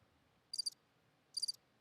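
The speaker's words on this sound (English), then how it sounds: "there it is. Those crickets." Cricket chirping sound effect, two short high trilling chirps a little under a second apart, crisp and isolated against quiet background.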